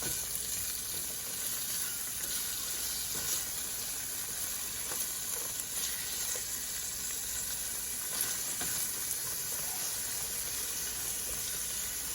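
Green beans tossed in olive oil sizzle and fry steadily in a hot pan, a dense, even hiss with faint crackles running throughout, close and alone with no talking.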